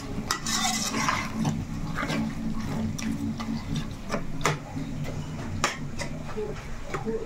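A spoon stirring masala into fish curry in a pan, with irregular scraping clinks against the metal over a low simmer, while someone talks in between.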